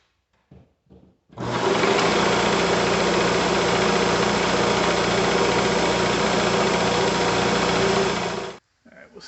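A shop air compressor starts up and runs continuously, a loud, steady mechanical hum and buzz as it builds pressure, then shuts off, with brief sounds before and after.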